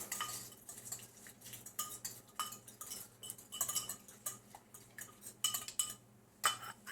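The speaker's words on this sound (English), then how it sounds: "just get your cut up paper and mix it right down in there" Cut-up paper is mixed into an egg mixture in a bowl, giving quiet, irregular clinks and scraping taps of a utensil against the dish, close and alone.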